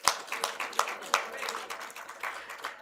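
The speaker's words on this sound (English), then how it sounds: "A big round of applause to all the faculty members here." Graduation ceremony audience clapping for faculty members, a steady run of hand claps with distinct sharp hits through the sound, moderately loud, with a voice also present.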